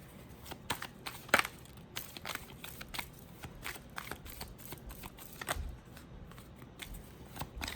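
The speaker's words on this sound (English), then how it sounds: "Tell me when to stop shuffling" Tarot cards are shuffled by hand close up, in soft riffling bursts and papery flicks that come in an uneven rhythm, quiet and alone.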